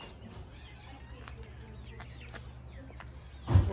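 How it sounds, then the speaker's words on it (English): Chickens cluck softly in the background over a low rumbling outdoor hum, with a brief louder bump right at the end. "And some of our other chickens."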